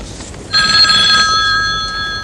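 A telephone rings loudly and close by with a bright electronic trill that starts abruptly and holds steady, with no one talking over it.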